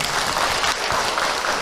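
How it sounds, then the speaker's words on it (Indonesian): A brief, dense burst of audience clapping at an Islamic religious lecture, steady and fairly loud across the whole moment with no pause. "sekali lagi tepuk tangan Ibu buat Abi ya"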